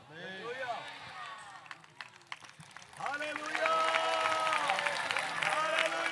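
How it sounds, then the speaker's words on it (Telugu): A church congregation clapping hands together, a dense, swelling patter of many palms that grows louder and more sustained toward the end, under a preacher's voice speaking over it. "మళ్ళీ చప్పట్లు మాత్రమే కొడుతున్నారు"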